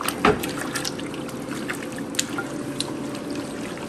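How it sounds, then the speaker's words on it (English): Water being poured and stirred into Hyderabadi biryani meat while mixing, with a wet trickling splash near the start followed by steady soft liquid stirring and dripping at close range. "so we're gonna mix a little bit again."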